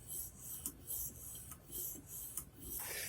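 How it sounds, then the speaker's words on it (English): A curved metallic bonded diamond sharpening stone scrapes back and forth across a steel knife blade in close, quiet strokes, about five rhythmic rasping passes with brief pauses between. "Just move the stone up and down and across."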